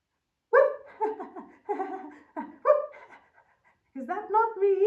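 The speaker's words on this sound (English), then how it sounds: "The dog barked playfully, trying to lighten the mood." A dog gives a run of short, excited vocal yelps and panting whimpers in quick bursts, close and clear, with a brief pause before a final eager burst.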